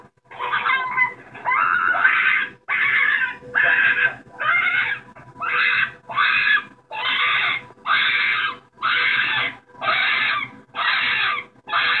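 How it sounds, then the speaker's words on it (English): Angora rabbits screaming in pain as factory farm workers rip the fur from their skin: a series of loud, repeated shrill shrieks in regular bursts, each about a second long, continuing steadily with no talk. "factory farm workers violently rip the fur right out of the rabbit's skin as they scream in pain."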